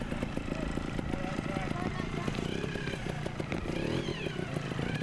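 A Beta 125 trials motorcycle rides out of a competition section, its engine running steadily with revving and clattering over rough ground, with people talking over it throughout.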